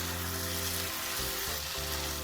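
Boiled kidney beans stirred into a sizzling tomato masala in a pan, giving a steady close hiss of frying with soft scraping as the mixture is turned.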